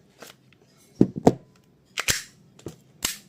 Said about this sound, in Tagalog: WG17 firing.